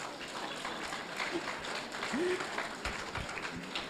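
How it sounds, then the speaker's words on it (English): Light audience applause at a university inaugural lecture in Nigeria, a modest scattering of clapping heard at moderate distance, fairly soft and steady with faint room noise. "You may clap for us."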